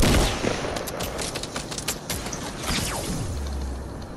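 Gunfire in the battle game Fortnite, a dense run of sharp shots in quick bursts that spread over the whole clip, fairly close, with mechanical clatter around them and no voices.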